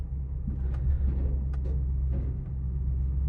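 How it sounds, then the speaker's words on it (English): A repossessed Cadillac SRX being gassed while it struggles and threatens to stall, giving a low, heavy engine rumble that holds steady throughout with a few faint knocks and clicks on top. "You try gassing it and it starts trying to stall."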